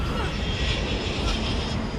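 An open cargo aircraft's engines roar in the film Uncharted, a loud, steady, close drone that never lets up, with voices faintly under the noise.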